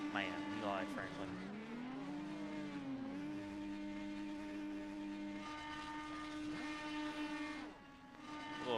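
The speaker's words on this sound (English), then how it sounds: "Little burnouts going on over here." IndyCar engines rev and whine in the iRacing sim at Kansas as cars do burnouts, with pitch sweeps and tire squeal, heard under continuous commentary.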